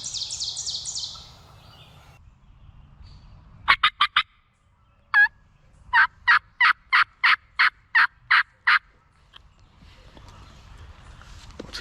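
A wild turkey gobbles in a rainy field, a loud close burst of three quick gobbles, then a single call, followed by a steady run of about nine evenly spaced gobbles, with faint high bird calls before.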